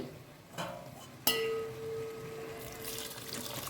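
Water is poured into pav bhaji vegetables in a pan, starting with a sharp metallic clink that rings out. A soft wash of running, splashing water follows, quiet and close.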